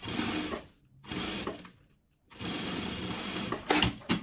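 Close bursts of a sewing machine stitching a synthetic fabric pocket for a bag, three runs of steady whirring separated by short pauses, with a few small clicks near the end.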